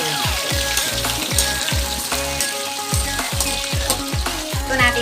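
Goat meat for caldereta half-frying in hot oil, a steady loud sizzle broken by repeated low thuds and scrapes as the pieces are stirred and turned in the pan.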